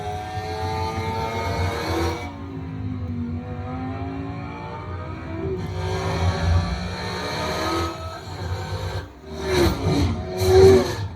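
Race car engines from a racing game preview, loud, close, with several rising and falling passes and revving sweeps, ending in a burst of sharp, busier engine noise.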